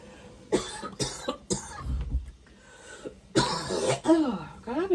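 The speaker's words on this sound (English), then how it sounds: "I've been coughing a lot today." A woman coughs and clears her throat repeatedly in short, uneven bursts close to the microphone, with brief spoken words mixed in between the coughs.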